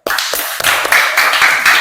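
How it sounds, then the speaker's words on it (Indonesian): An audience claps together in a classroom session, a brisk burst of applause that rises quickly and stays steady and fairly loud for under two seconds, with no talking. "Tepuk tangan."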